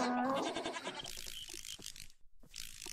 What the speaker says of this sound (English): You hear a goat.